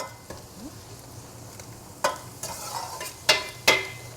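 Garlic and onion sautéing in a pan, a low continuous sizzle broken by several sharp spatula scrapes and knocks that grow busier toward the end, close by and without talk.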